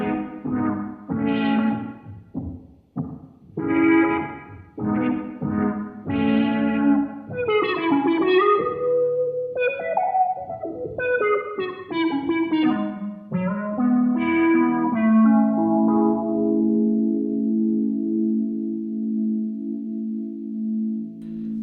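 A synth tone played through a Boss SY-200 synthesizer pedal with shallow-water modulation and a small reverb: melodic, sweeping phrases that settle into long sustained notes, heard alone with no talking.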